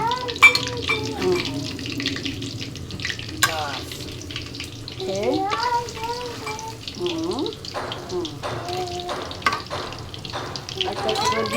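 Battered cauliflower pakoras frying in hot oil, a steady crackle running under a voice talking throughout, with occasional clinks and scrapes from a utensil.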